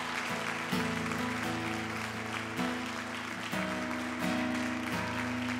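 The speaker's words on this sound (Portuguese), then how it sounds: "Você pode aplaudir o Senhor?" A church congregation applauds during a worship service, with a wash of clapping running continuously beneath sustained music.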